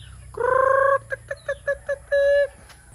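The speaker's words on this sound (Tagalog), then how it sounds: "Look at that, there's a lot of chicken." A chicken gives a drawn-out call followed by a string of short, rhythmic clucks and another longer squawk, close by and clear.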